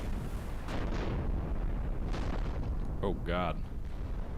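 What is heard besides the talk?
shell hits and artillery fire on a battleship, from a video game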